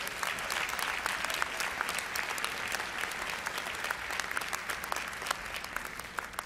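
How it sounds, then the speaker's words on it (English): Audience at a Martin Luther King convocation at Florida A&M University breaks into sustained applause, a dense wash of many hands clapping steadily for several seconds with no voices over it. "Give FAMU a round of applause"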